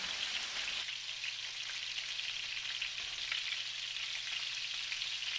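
Chicken pieces sizzling in a pan after being flipped onto the other side, a steady loud hiss with fine spattering crackles, close and continuous, shifting slightly in tone early on.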